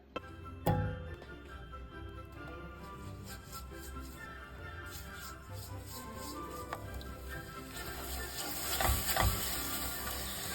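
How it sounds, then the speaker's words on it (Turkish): Béchamel sauce for köfteli hünkar beğendi being cooked in a pan, a soft continuous sizzle with stirring scrapes and a few sharp utensil knocks, louder bubbling near the end. "Hızlıca bir beşamel sos hazırlayacağız ama farklı."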